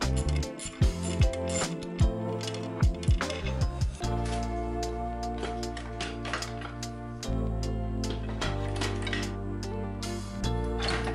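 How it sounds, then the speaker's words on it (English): Metal parts of a letterpress clank, ratchet and grind as the heavy platen assembly is worked loose and removed, with dense clattering strikes over a steady mechanical hum, close and fairly loud, no talk. "I'm going to have to take the whole Platen assembly out, which provides a lot of the core structure for the press."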